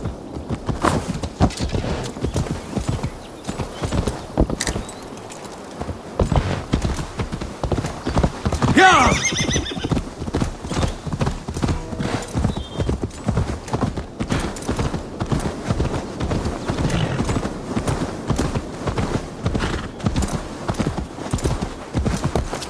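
Horse hooves clip-clopping in a steady rhythm in Assassin's Creed Valhalla during a Samhain festival night, close and loud, with a brief whinny near the middle and voices talking over the hoofbeats.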